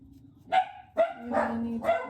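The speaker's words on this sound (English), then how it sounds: "Whoops, the dogs are pissed." Four sharp dog barks ring out close by, spaced roughly half a second apart, with a low hum running underneath.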